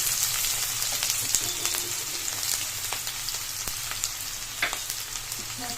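Chopped medium-sized onion frying in hot oil in a pan for an egg dish: a steady, dense sizzle with scattered crackles and pops, close and continuous.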